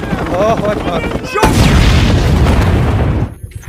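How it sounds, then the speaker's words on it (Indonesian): A man blows himself up in a film scene, and a loud, deep explosion bursts in partway through, rumbling for a couple of seconds before cutting off, with voices and tense sound before it. "Karena merasa tak ada jalan lain lagi, pria itu pun memutuskan untuk meledakkan diri."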